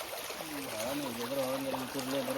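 A rain-swollen stream rushes with force, a steady broadband wash of water running continuously while a voice talks over it throughout.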